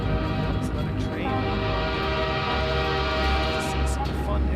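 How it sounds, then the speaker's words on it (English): A train rumbles past at close range in the video game Half-Life 2, a loud steady roar of wheels and carriages with a sustained horn blast layered over it. "comes another train."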